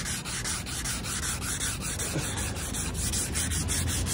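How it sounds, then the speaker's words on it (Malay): Sandpaper rubs back and forth across a yellowed Perodua Axia car headlamp lens in one direction, a loud, close, continuous scratchy rasp with a steady stroke rhythm and no talking. "pastikan gosok tu dengan satu arah je. Arah dia melintang."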